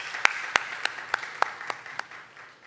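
A church congregation gives a short round of applause: a handful of sharp, separate claps that land roughly evenly, then the sound trails off into quiet room tone.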